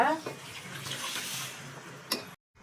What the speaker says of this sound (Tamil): இப்போ வந்து இந்த ஸ்டேஜில் வந்து புளி தண்ணியை ஆட் பண்ணிக்கிறோம்.